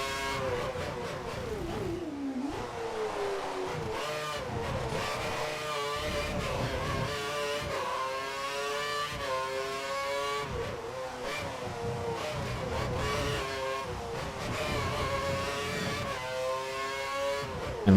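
F1 car in F1 2013 at Monza pulling slowly through a long first gear, engine note climbing steadily in a drawn-out rising whine with gear-change dips, continuous and moderately loud, no talk.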